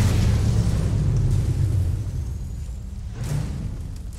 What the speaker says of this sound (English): Enemy base destroyed.